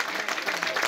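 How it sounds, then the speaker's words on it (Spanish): A church congregation at a live evangelistic service in Otuzco, Cajamarca, breaks into a brief burst of dense, continuous clapping that fills the room for about a second. "Dale el mejor aplauso de la historia"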